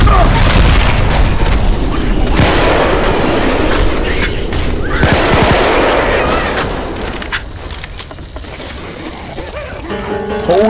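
Loud booming gunfire and impacts battering the player in Left 4 Dead 2, a dense roar of shots and blasts that thins out later, with voices among the chaos.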